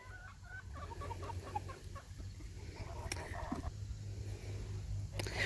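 Chickens cluck on a farm that keeps Andalusians and other laying breeds, several birds calling in short irregular bursts over a steady low hum, with a faint rooster-like call near the end.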